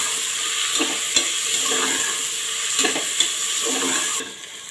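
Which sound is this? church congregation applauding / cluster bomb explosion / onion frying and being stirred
onion frying and being stirred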